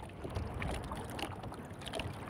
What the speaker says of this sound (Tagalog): Malakas ang hangin mga idol, pambirang hangin na yan.